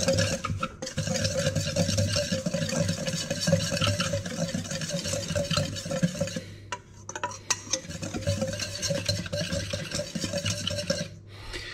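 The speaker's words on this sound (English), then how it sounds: "And then I'm going to stir them up with a fork or a whisk." Eggs being whisked for corn bread with a fork or whisk in a bowl, a steady rapid clatter running for most of the stretch, briefly pausing midway before resuming close and alone.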